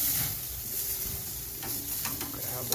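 Small picanha burgers made from beef trimmings sear over an open flame, giving a steady close sizzle and crackle with a faint hiss throughout and brief clicks toward the end.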